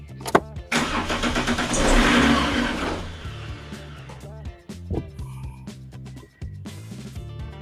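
A Fiat Marea 130HLX engine cranks and fires up at a fuel pump, then settles into a steady idle with some revving, close and fairly loud, while someone talks over it.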